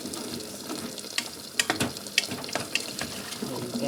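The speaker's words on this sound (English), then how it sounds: "add a tiny bit of water, just on the top of the level of your ingredients" Water poured into a pot over pumpkin and Italian beans, a close splashing gush broken by irregular sharp splats and drips over a few seconds.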